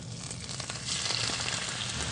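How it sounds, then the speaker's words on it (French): Porcini mushrooms and garlic sautéing in a frying pan give a steady, soft hiss of sizzling that swells slightly louder partway through, with no voices. "on va faire revenir les cèpes avec l'ail à la poêle"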